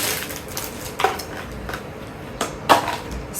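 A plastic smiley-face lunch box with a fork and spoon is handled up close, giving a few sharp clacks and light rattles between quieter handling noises.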